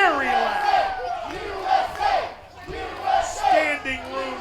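A standing-room-only crowd at a Mid-Atlantic Territory Wrestling TV event jeers a wrestler, a loud, sustained wash of massed voices that swells and dips in waves, with rising and falling shouts cutting through.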